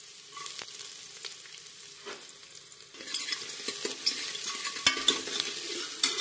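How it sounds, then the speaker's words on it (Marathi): Onion going into a pan of hot oil with reddened garlic for dal palak, giving a steady sizzle and stirring scrapes that grow louder and denser in the second half, close and without talk. "आता याच्यामध्ये आपण कांदा घालणार आहोत."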